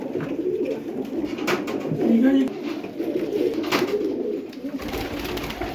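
Pigeons coo in low, throaty bursts nearby at a pigeon sale while someone speaks briefly over them.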